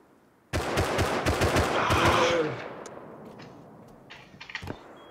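An automatic turret opening fire in the Rust video game: a sudden loud burst of rapid shots lasting about two seconds, then fading into a ringing tail, followed by a few fainter, scattered shots.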